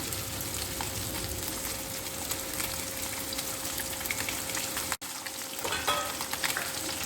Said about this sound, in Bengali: তাহলে এই মাছগুলো আর এইগুলো ভেজে আমি আসছি।